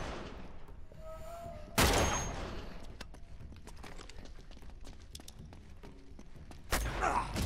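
Gunfire from the video game Uncharted 2 rattles in sharp bursts of rapid shots, with two louder blasts standing out against a steady stream of quieter cracks, all fairly distant and without talk.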